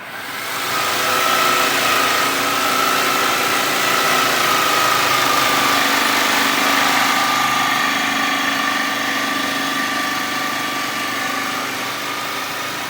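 A power tool cuts through PVC board for a window sill with a loud, steady high-pitched whine that holds nearly unchanged for the whole stretch and carries no talk over it.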